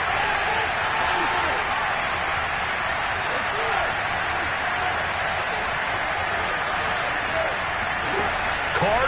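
A football stadium crowd roars steadily throughout a tense late-game third down, a dense, continuous wash of noise with no clear breaks.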